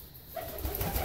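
A bird at a sunny bird bath, where a larger bird waits its turn, gives a brief soft cooing call close by for about a second; no talk.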